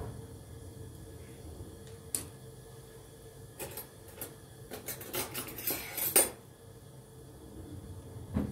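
A spoon clinks and scrapes against a pot as pistachios go into melted butter, a cluster of sharp metallic taps against a quiet background.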